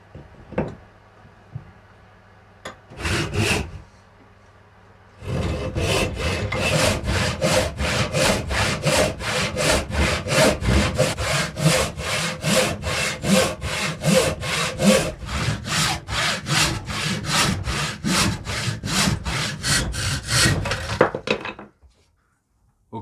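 Hand saw cutting through an oak tree fork clamped in a vise, a long run of steady, rhythmic back-and-forth strokes, close and loud, after a few brief knocks at the start and no talking.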